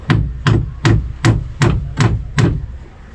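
Seven heavy hammer blows land in a steady, evenly spaced rhythm, close and loud, with no voices.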